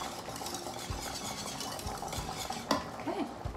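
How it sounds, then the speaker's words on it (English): A sauce mixture for scalloped potatoes is stirred in a pot, with a spoon scraping and knocking against the metal. The clatter is soft and irregular, with one sharper clink near the end over a faint background hum. "that is mixing up wonderfully"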